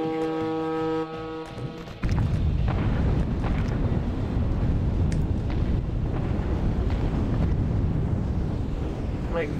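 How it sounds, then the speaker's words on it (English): Artillery strike explosions in the Atom Zombie Smasher video game: after a brief tonal hum, a dense, continuous rumbling barrage of blasts fills the rest of the stretch at steady loudness. "And then I use the artillery down here."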